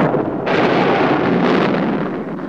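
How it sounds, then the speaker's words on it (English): Thunder rolls as a drought breaks on a Western ranch: a loud, sustained broadband rumble that swells sharply about half a second in and keeps roaring without a break, with no voices over it. "Thunder and lightning!"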